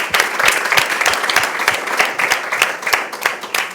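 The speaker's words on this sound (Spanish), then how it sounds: "vamos a darles un aplauso porque creo que lo han hecho fenomenal" An audience at a Spanish startup talk gives steady, lively applause, many hands clapping continuously and close for the whole stretch.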